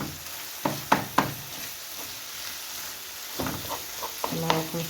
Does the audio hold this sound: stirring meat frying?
yes